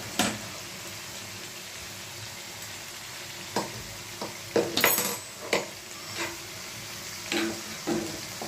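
Chicken stirred in a pan after milk is poured in, a steady sizzle and frying hiss broken by several scraping spoon strokes and light clinks against the pan, close and without voices.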